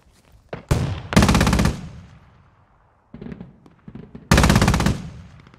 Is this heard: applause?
no